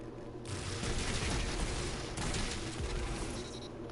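Dense, continuous gunfire and explosive blasts in a Destiny 2 firefight with a grenade launcher, a steady roaring barrage with no pauses.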